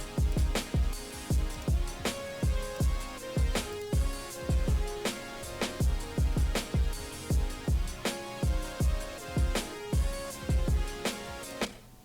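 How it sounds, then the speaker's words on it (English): A punchy drum beat with a ticking hi-hat loop and a repeating melody, steady and rhythmic with no voices. "with the drums, with the hi-hat loop, with the melody, sounds like this."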